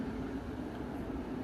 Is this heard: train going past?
yes